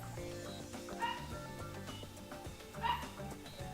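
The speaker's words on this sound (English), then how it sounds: "that dog is barking again" A dog barks somewhere in the room, two short yips standing out over busy background game music, fairly faint and set back from the microphone.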